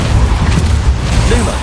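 The Depulso spell in Hogwarts Legacy, a short, loud, blunt thump of force over a dense rumbling background, with a voice faintly present.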